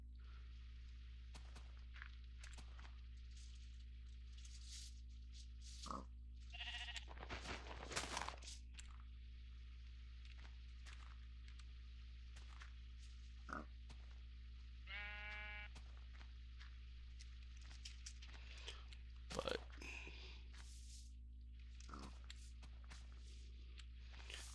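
Sparse, synthetic-sounding sheep bleats in the video game Geomine sound over a steady low hum, with scattered soft clicks and footstep-like taps between them.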